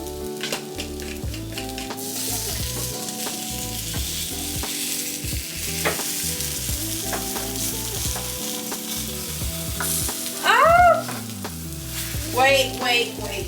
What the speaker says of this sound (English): Let's get into our omelets. And then add in your egg.